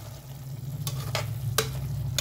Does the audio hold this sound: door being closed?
no